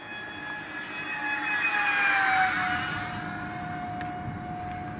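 An RC model Airbus jet flies past low with flaps down, its high turbine whine sweeping down in pitch as it passes, the rushing roar swelling and fading outdoors without talk.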